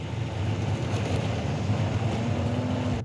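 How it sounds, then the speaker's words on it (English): A 2022 Audi RS3 heard in the distance, a low steady engine rumble with a faint rising rev tone, continuous and fairly muffled for the whole stretch. "So there you can start to hear the car revving, and it sounds like it's in the distance"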